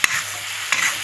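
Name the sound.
tomatoes added to frying spices in a pan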